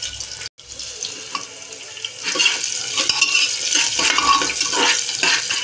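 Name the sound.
frying ginger and garlic for dal khichdi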